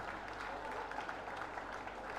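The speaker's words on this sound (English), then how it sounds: "Keep the applause going." A ceremony audience applauds steadily as a chairman walks to the podium, a dense and even wash of clapping from a large crowd that holds for the whole stretch.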